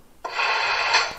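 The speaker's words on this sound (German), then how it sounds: "das Sanden," A short, even burst of hissing noise, the sanding sound effect of a Märklin gauge 1 model SBB locomotive, lasts about a second, starting abruptly and fading out, with near silence around it.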